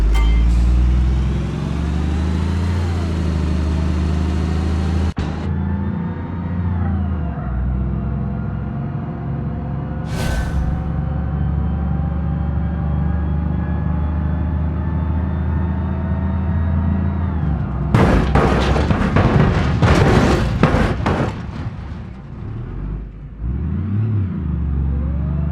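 A bus in the driving simulator BeamNG drives with a steady droning engine and whining drivetrain that shifts pitch, then a burst of scraping, crunching impacts as the side is sliced open while it keeps rolling.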